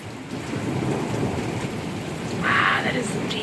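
Heavy thunderstorm with torrential rain: a deep, rolling rumble of thunder swells under the dense, steady roar of downpour, loud and close throughout.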